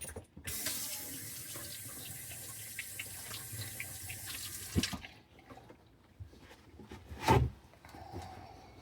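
Tap water running into a kitchen sink to wash a cucumber, a steady hissing stream for about four seconds that shuts off, followed by quiet handling clatter and a soft thud.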